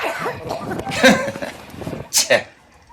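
A district mayor coughs amid a noisy press scrum, with several short cough bursts breaking through overlapping talk and crowd commotion.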